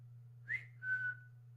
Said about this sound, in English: He loves the whistle.